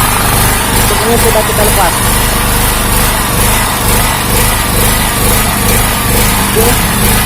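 A Honda GX160 engine on a 2000 W gas-fuelled generator runs steadily and loudly up close, its drone wavering as it surges up and down, with someone talking over it.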